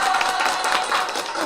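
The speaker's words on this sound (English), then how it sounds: "and some applause." A short burst of steady clapping and applause from a small group fills the moment, dense and even throughout.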